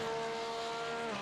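Flat-six race car engine at speed on the Conrad Straight at Bathurst in the iRacing sim, a steady high-revving drone with a rising tone, loud and alone.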